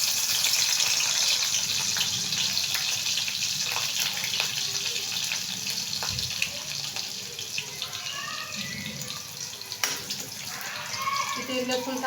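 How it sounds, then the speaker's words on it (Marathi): Crushed garlic cloves sizzle in hot oil in a kadhai with a continuous, moderately loud hiss and crackle, while a voice speaks over it at times. "आता मी या तेल चांगलं तापलेलं आहे, याच्यामध्ये लसणाच्या पाकळ्या घालून घेणार आहे"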